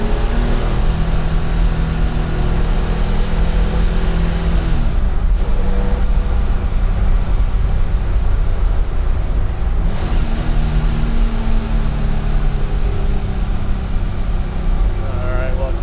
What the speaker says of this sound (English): We'll accelerate through this next corner.